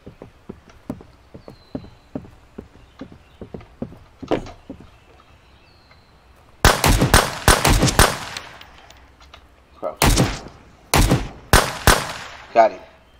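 Gunshots in the survival shooter Road to Vostok: a loud, close burst of rapid shots fires at mid-clip, followed by several separate sharp single reports, with quieter clicks and soft talk in the quiet stretches before.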